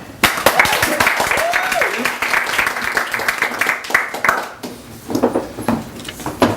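Audience applause and cheering for a Toastmasters speaker being welcomed at a Boys & Girls Club event in Dana Point Harbor, a dense clatter of clapping with voices and whoops mixed in, thinning toward the end.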